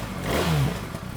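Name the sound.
BMW R1300 GS motorcycle engine starting and revving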